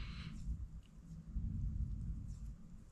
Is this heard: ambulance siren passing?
no